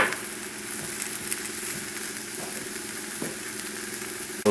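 Vegetables sizzle as they sweat in a hot pan while a fresh pork hock dish with corn, lima beans and thyme is cooked, giving a steady, even frying hiss with a few faint stirring sounds and no voices.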